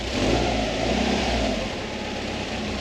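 A Subaru Bugeye WRX fitted with a swapped-in STI six-speed gearbox runs as it is put in gear. The engine hum is loud, close and steady, rising slightly and then settling, with no voices over it.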